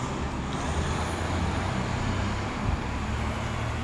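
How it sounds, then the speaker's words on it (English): Steady city street traffic in downtown Halifax on a chilly day, with buses and cars rumbling past continuously, a dense low roar and a brief heavier swell partway through, no talking. "it's kind of noisy on the street here from the buses and the traffic"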